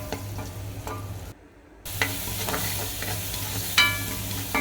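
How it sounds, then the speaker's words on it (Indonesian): Ground rendang spice paste sizzles and gets stirred in a pan up close, with steady frying crackle, scraping spoon strokes and a brief pause partway through. "Kemudian aku gosok bumbu yang aku ulek tadi."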